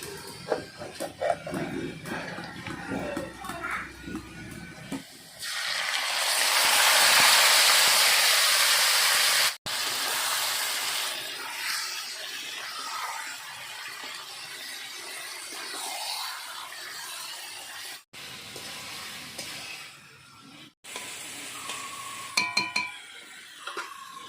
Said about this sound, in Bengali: এবার মাংসটা দিয়ে দিই।